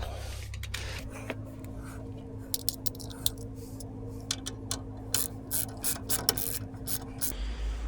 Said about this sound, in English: bring another jack, start jacking it up